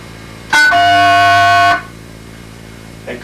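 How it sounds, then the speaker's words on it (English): A green box coin collect signal plays a steady dual tone blending 700 Hz and 1100 Hz pitches, one loud continuous beep of just over a second, alone with no talking. "A coin collect tone is composed of a 700 Hz and an 1100 Hz tone and sounds"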